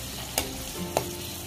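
Masala with tomato paste fries in a pan with a steady, soft sizzling hiss, broken by two brief clicks of a stirring utensil.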